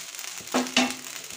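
Chicken fried rice sizzles in a pan, street-style, with a steady hiss broken by two short scraping stir strokes close by.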